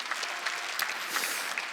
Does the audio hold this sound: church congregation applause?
yes